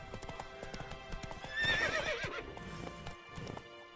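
Horse galloping in The Witcher 3, with rhythmic hoof clip-clops and a loud neigh midway, close and clear with no talk.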